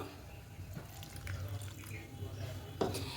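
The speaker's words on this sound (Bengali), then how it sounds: "এবার সামান্য একটু জল দেব" A little water trickles and splashes in as a spice paste with dried red chillies is ground in a kitchen, steady and fairly close, with a sharper splash near the end.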